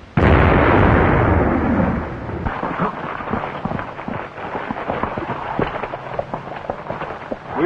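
A large mine blast at night, one heavy booming explosion that bursts loud and then rolls off into a long crackling, rumbling tail of falling debris, with no voices.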